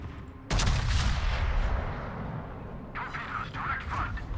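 Booming gunfire from a naval combat video game erupts suddenly and loudly, rumbling on under excited voices, with short sharper bursts near the end.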